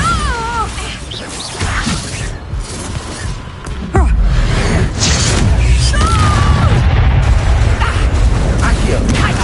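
A Bombarda spell explodes in a Harry Potter video game with a heavy boom about midway through, followed by a louder, sustained crashing rumble. Voices and a cat-like meow are heard around it.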